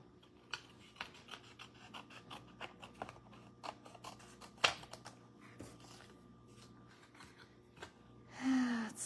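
A paper card for a handmade Christmas card is trimmed with a paper trimmer, giving repeated soft rasping, cutting strokes in an uneven rhythm, close and quiet, with one sharper scrape near the end.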